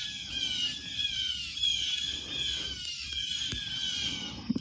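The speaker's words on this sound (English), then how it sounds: "The birds are waking me up." Several birds chirp and warble steadily in a high, bright morning chorus in the woods, with a soft low rumble underneath and a few sharper clicks near the end.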